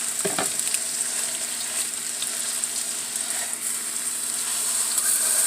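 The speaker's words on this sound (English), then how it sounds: "So we're going to squeeze this right into the pan so that it can start browning." Ground meat squeezed from its package sizzles steadily as it starts browning in a hot pan for lasagna, with a few brief stirring knocks near the start under a constant, close frying hiss.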